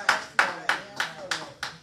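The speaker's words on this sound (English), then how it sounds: "Clap your hands for yourself." Hands clapping during a church service, six crisp, evenly spaced claps at roughly three per second, close and fairly loud.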